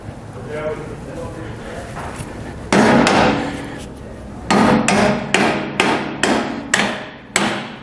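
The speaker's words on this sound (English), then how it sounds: "Then we're going to take a hammer." Sharp hammer blows ring out on a metal suspension bolt, about eight strikes coming faster toward the end, after some quiet talking at the start.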